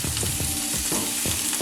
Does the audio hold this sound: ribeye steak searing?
yes